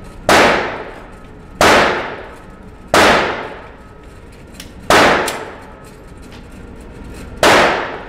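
Five sharp, loud gunshots ring out at a target range, spaced a second or two apart, each with a quick decaying echo and no talk between them.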